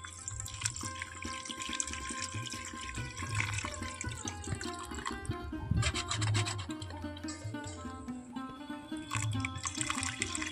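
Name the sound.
water being poured into a pot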